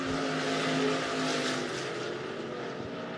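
Race cars circling the dirt oval at RPM Speedway in Hays, Kansas, a steady, loud engine roar with a slight swell and fade as the field passes, no talk over it.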